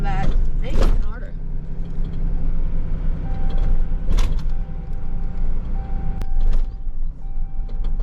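Raker tow truck backing up, its engine rumbling under repeated high backup beeps and mechanical clunks, with a few sharp knocks and rattles nearby and voices talking over it.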